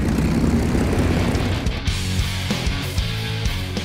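A P-38 twin-engine fighter in the War Thunder video game gives a loud, steady propeller engine drone with a throbbing low hum that holds throughout, with no voices.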